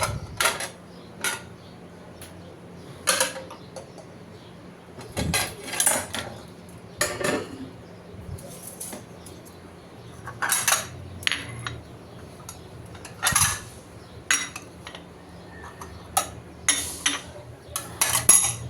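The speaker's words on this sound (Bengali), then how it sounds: "রাতের ধোয়া প্লেট বাটিগুলো এখন গুছিয়ে নিব, জায়গাটা জায়গায় রেখে দিব।" Washed plates and bowls clink and clatter as they are put away in a home kitchen, a series of irregular, close ceramic knocks spread across the whole stretch with brief quiet gaps between them.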